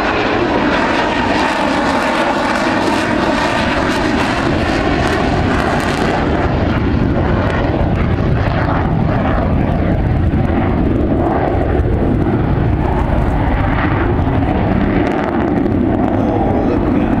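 An Avro Vulcan B2 bomber flying at the Farnborough Air Show 2014 thunders overhead with a loud, continuous jet roar that shifts in tone as it passes, dominating the whole stretch without talk.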